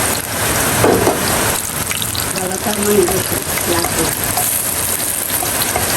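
Chilies and chopped garlic frying in oil for a home Bangladeshi dish, a steady loud sizzle and crackle throughout, with someone speaking over it.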